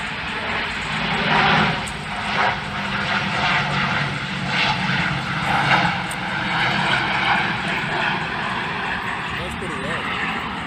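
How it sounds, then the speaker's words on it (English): An airplane passing low overhead, a loud, steady engine roar that swells and fades gently over several seconds while people talk nearby. "That's an empty plane"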